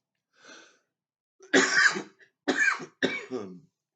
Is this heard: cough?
yes